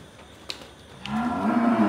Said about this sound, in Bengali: গরুটা খুবই সুন্দর একটা গরু